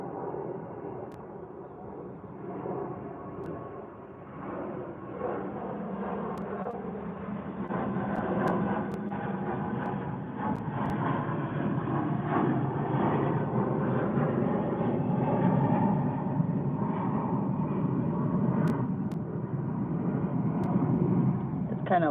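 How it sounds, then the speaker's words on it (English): An airplane passes overhead, a low, broad rumble that builds slowly and stays steady and fairly loud toward the end, with no talking over it. "There's our airplane above."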